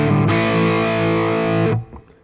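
Heavily distorted electric guitar struck hard at full volume during a blues lesson in E, a loud sustained chord ringing for nearly two seconds before cutting off abruptly into a faint decaying tail.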